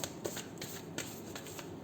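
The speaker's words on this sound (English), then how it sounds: "3 shuffles." Tarot cards being shuffled in quick riffling bursts, several crisp flurries in a row, close and quiet with no talking.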